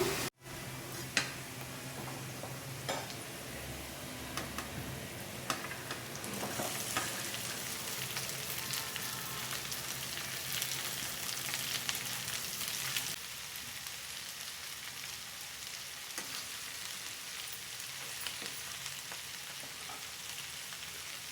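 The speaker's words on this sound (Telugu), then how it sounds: "ఇలా ఒకసారి తిప్పుకొని మూత పెట్టకుండా ఫ్రై చేసుకోవాలండి" Okra pieces fry with onions in an uncovered pan, giving a continuous close crackling sizzle, brighter and busier for a stretch as the pieces are stirred, then settling to a steady hiss with occasional spatula ticks.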